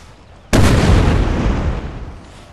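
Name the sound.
cannon artillery fire in video game Napoleon Total War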